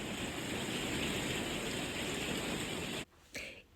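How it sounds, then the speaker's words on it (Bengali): Steady, dense rain pours outside with a constant wash of noise, then cuts off abruptly near the end. "বাইরের বৃষ্টির আওয়াজটা শুনুন একবার।"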